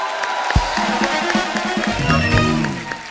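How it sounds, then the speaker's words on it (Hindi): A studio audience on a comedy talk show cheers and claps, a sharp burst followed by a sustained crowd roar with music-like tones and voices mixed in, loud and continuous. "आप सबकी जोरदार तालियों के बीच प्लीज वेलकम"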